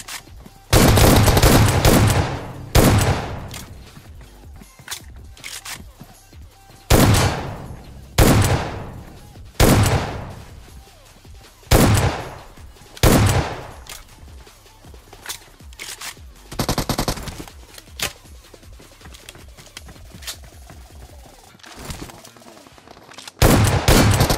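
Gunfire in a battle royale game at a military base, with repeated loud shotgun blasts and bursts of automatic fire spaced a few seconds apart, each dying away before the next.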